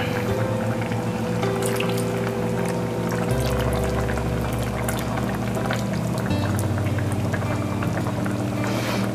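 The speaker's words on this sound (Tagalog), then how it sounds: "pwede natin ihulog ang suka" Vinegar poured into squid adobo in a cooking pot, a continuous liquid pour and bubbling simmer running steadily throughout under background music.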